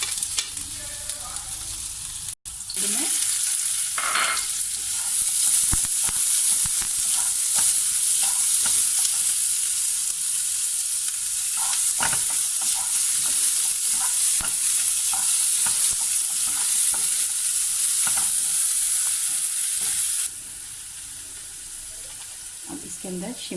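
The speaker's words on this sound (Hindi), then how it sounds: "ऑयल गर्म होते ही आपने लहसुन और अदरक डाल देना है आपने इसके अंदर।" Garlic and ginger frying in hot oil for a momo-style breakfast dish, a steady loud sizzle with intermittent stirring scrapes and clinks throughout, close up, no talk.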